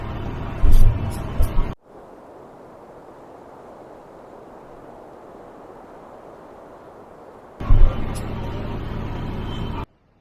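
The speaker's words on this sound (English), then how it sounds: "And there is our bus to El Caney." A bus to El Caney, its engine and road rumble heard loud and close at the start and again near the end, separated by a stretch of near silence.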